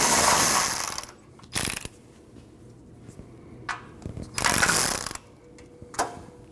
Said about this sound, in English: we need to remove the 10mm bolt that's holding on to our power steering line